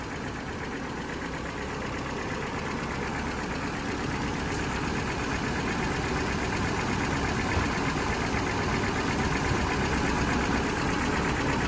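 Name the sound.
car engine idling with the battery cable disconnected, alternator test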